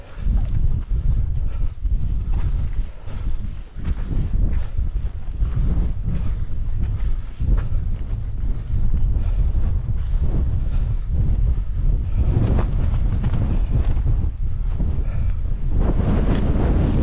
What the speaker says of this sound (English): Weather's really changed now. It's really windy.